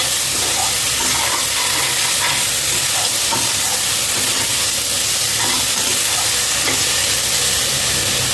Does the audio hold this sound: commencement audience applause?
no